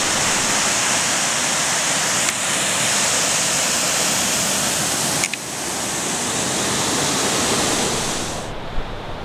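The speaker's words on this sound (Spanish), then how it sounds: "¿Este arroyo cómo se llama, el arroyo que vemos acá?" Water of the Arroyo Mina creek in Ybycuí, Paraguay, rushes steadily near an old dam, a loud, continuous broadband roar that stays unbroken throughout and fades slightly at the very end.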